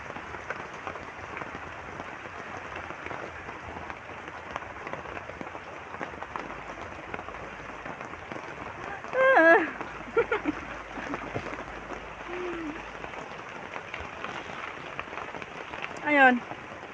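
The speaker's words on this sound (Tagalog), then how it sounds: "Umuulan." Steady rain falling and dripping outdoors on a cold morning, a continuous soft hiss throughout with a couple of brief louder bursts of nearby sound.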